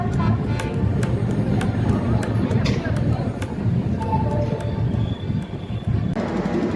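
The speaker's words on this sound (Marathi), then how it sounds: "हजूर साहेब नांदेड श्री गंगानगर सुपरफास्ट एक्सप्रेस पोहोचली आहे शेगाव रेल्वे स्टेशनवरती" The Hazur Sahib Nanded–Sri Ganganagar Superfast Express arrives at Shegaon station with a steady rumble of wheels and carriages, faint clicks and squeals, and station chatter underneath.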